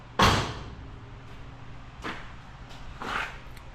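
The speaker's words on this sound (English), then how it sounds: "But when you close the door, I mean, it's off" The door of a 1968 Oldsmobile 442, mid-restoration with body panels being mounted, shuts with one solid thump, followed by two softer knocks and rattles in a quiet workshop.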